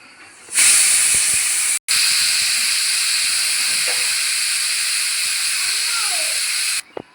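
A pressure cooker cooking chicken salna releases one loud, steady hiss of escaping steam lasting about six seconds, broken by a brief gap near the start.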